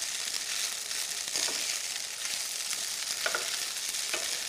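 Smoked mackerel pilaff, made with steamed basmati rice, is gently stirred in a pan, giving a soft steady sizzle with light scraping strokes, close and quiet, with no talking.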